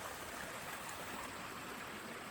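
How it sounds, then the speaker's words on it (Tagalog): A continuous broadband rush of the river at Barangay Mabato, Calamba, Laguna, steady and unbroken throughout, with no voices. "So ito na yung ilog guys"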